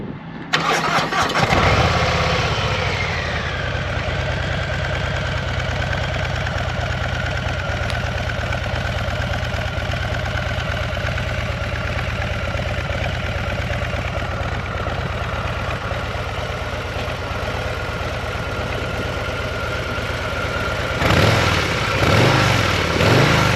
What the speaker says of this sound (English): it's gonna give you an example of what this sounds like with stock exhaust starting up